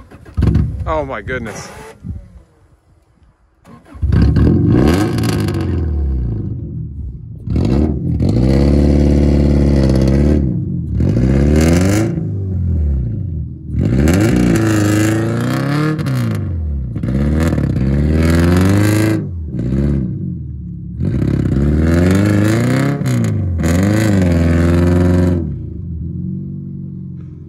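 A Subaru Legacy's engine turns over and revs repeatedly in rising and falling bursts, loud and close, with people talking and exclaiming over it.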